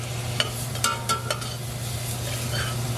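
Onions and cumin frying in oil over medium heat and being stirred, with a steady low sizzle and a few sharp scrapes and clinks of a utensil against the pan.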